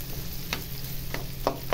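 White salmon half-fries in a pan, giving a steady close sizzle with occasional soft stirring scrapes and no talk.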